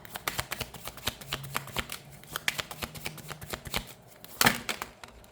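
Tarot cards shuffled by hand, a quick run of crisp riffling flicks and taps in a brisk irregular rhythm, close and soft, ending with a louder slap as a card is drawn.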